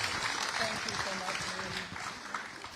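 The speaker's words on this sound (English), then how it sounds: "Can we give them a round of applause?" Audience applauding a sports-day panel in a hall, a sustained patter of clapping that fades slightly toward the end, with talking over it.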